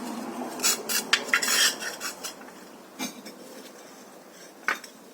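Student-made bisque-fired ceramic soap dishes, lifted out of a pottery kiln after a bisque firing, clink and scrape together in a cluster of bright knocks, then a few isolated taps later on, with no one talking.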